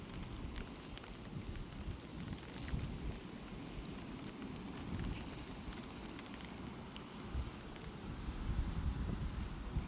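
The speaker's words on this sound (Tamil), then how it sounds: "மழை லைட்டாக தூவிக்கிட்டு தாங்க இருக்குது" Light rain drizzles at night over a hometown area, a soft, even patter and hiss that stays low and constant from start to finish.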